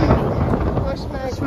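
Thunder from a storm approaching a campsite at Lake Balaton rolls as a continuous low, broad rumble that holds steady and fairly loud through the short stretch.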